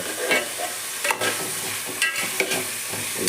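Chopped pirandai (veld grape) sautéing in a pan gives a soft, continuous sizzle, broken by a few light scraping stirs of a spoon against the pan; no one speaks.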